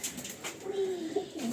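Madrasi baby pigeons give soft, low cooing calls at close range, a brief rolling coo in the middle over quiet background rustle.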